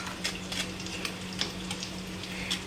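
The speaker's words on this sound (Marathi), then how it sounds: "तर आता आपण जे थोडे मनुके घेतलेले होते तेही आपण आता तळून घेऊया." Raisins frying in hot oil for poha chivda give a steady, close sizzle, broken by light stirring scrapes and clinks of a utensil against the pan, with no talking.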